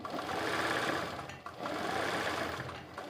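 A sewing machine running steadily while filling in a straight line in rice stitch, a close, continuous mechanical whir with rapid needle knocking and a brief dip before resuming, without talk.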